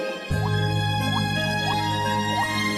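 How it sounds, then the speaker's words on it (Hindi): Rainwater dripping from a leaking roof in a cartoon, four evenly spaced bright plinking drips over a steady background hum, clear and close. "छत से कितना पानी टपक रहा है"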